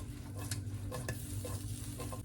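Shrimp, vegetables and noodles being stirred in a hot wok, with scraping strokes of the utensil over a steady frying sizzle, close and continuous, with no talk.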